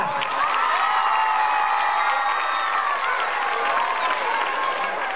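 An audience at a school gathering, a prize-distribution ceremony, claps steadily and loudly in a dense wash of applause, with excited crowd voices and cheers mixed underneath.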